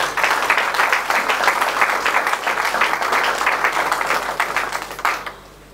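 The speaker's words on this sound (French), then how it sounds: "Je vous prierai d'applaudir pour vous-même." An audience at the closing of a museums conference in Kinshasa claps in dense, steady applause that carries on for several seconds before quickly dying away.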